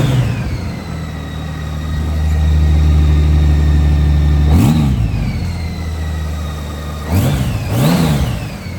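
A motorcycle engine runs steadily at a fairly high idle, rumbling loudly and close, then dips with two brief revs as the RPM drops and settles back toward a lower idle.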